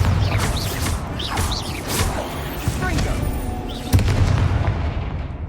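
Bombarda blasting spell explosions in Hogwarts Legacy: several booming blasts and crunching impacts amid continuous game combat noise, with voices speaking over the action.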